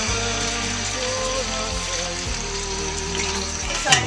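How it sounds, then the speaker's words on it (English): Pork shoulder sears in hot oil for an Italian pasta sauce, giving a steady, loud, dense sizzle that holds evenly throughout with no talking, with a brief scrape or clink near the end. "we're going to sear the pork shoulder on all 4 sides"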